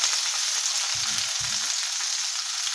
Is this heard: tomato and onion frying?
yes